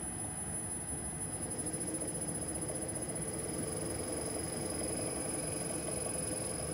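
A zero-cogging 5 kW DC and wild three-phase AC generator spins at low RPM, giving a steady mechanical hum with faint high-pitched whine and light rattle, continuous and fairly quiet throughout.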